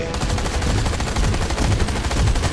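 Rapid automatic gunfire from a shooter video game boss fight crackles in dense, continuous bursts at steady volume, with no talk.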